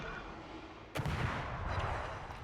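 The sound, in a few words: warship guns firing in a naval video game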